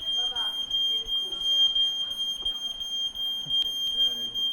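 A high electronic smoke alarm tone pulses steadily throughout while people talk over it in a kitchen setting.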